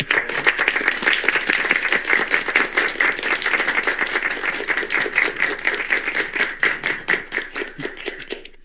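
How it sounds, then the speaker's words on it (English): Sustained applause and clapping from an audience honoring a governor, dense and steady throughout, loud and close with no talk over it. "Applaud for him."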